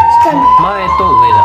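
A steady, high electronic siren tone from a toy police car sounds continuously while someone talks over it.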